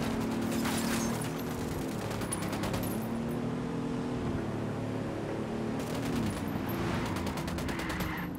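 Squad gunfire in Ghost Recon Wildlands, two clusters of rapid automatic bursts separated by a lull, loud over a steady engine-like drone.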